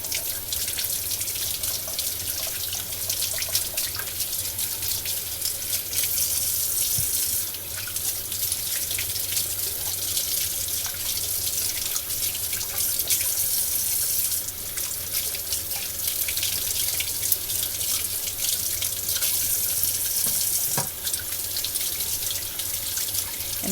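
Vegetables for pico de gallo are rinsed under a running kitchen tap, a steady hiss of flowing water with occasional splashes and drips, close and continuous with no talking.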